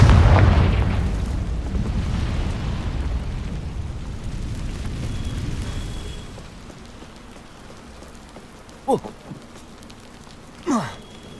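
The Confringo fire spell exploding in Hogwarts Legacy, a heavy booming blast that opens loud and rolls into a long crackling, rain-like rumble fading out, followed later by two short swooshing spell sounds.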